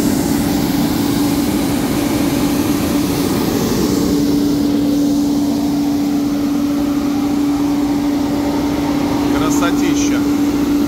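A Coral AF4C dust extractor with filter bags runs steadily after being switched on, giving a loud, constant motor whine and airy rush with a steady tonal hum, unbroken for the whole stretch.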